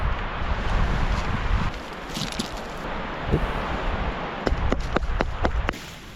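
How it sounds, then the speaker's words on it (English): Low, rumbling, bitterly cold wind gusts buffet the microphone steadily at an outdoor camp, with a few sharp clicks and taps near the end. "That wind is bitterly cold"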